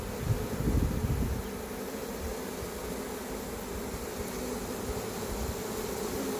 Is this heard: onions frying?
no